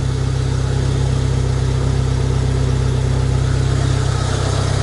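A Jeep Wrangler YJ engine idles steadily and loud up close, first started after sitting unused for three months, a constant low rumble with no talk over it.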